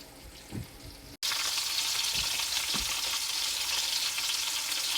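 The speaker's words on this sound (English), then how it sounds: "Here we have the turkey wings frying up on both sides." Turkey wings frying in a pan: after a few soft clunks and a brief gap, a loud, steady, close sizzle fills the rest of the stretch.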